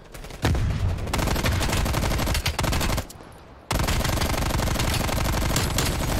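Rapid automatic gunfire in Black Ops Cold War, a weapon with only a basic sight, rattles in long sustained bursts with a short pause midway, loud and close.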